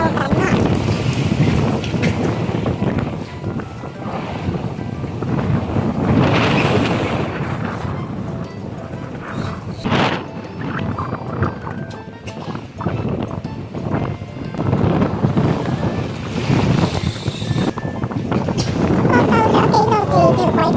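Strong wind buffets the microphone on a boat at sea during fishing in heavy rain and rough waves, a loud, gusting roar with thumps and splashes throughout, while people speak over it.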